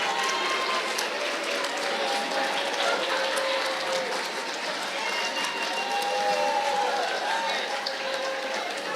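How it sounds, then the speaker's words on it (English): A school board chairman is welcomed at a Teacher of the Year celebration with steady, sustained audience applause that fills the hall evenly for several seconds, with a few voices mixed in. "Please join me in giving him a round of applause."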